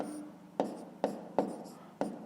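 Pen or chalk writing out a math solution for a fifth-grade fractions exercise, four sharp taps with scratchy strokes after each, evenly spaced and close, in a quiet room with no talking.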